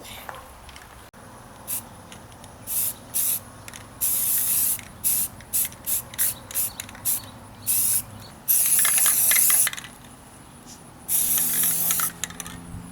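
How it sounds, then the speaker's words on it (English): Rusty metal primer sprayed from an aerosol can onto a trailer, heard as repeated bursts of sharp hiss, some short and some held for over a second, close and loud between quiet pauses. "a little rusty metal primer on here"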